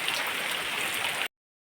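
Steady rain pours down as a dense, even hiss for about a second before cutting off abruptly into silence.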